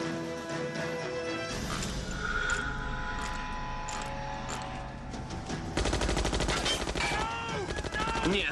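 Gunfire in a horror film: bursts of shots and crashes in a dense, loud action mix with music and shouting voices, the firing growing heavier in the second half.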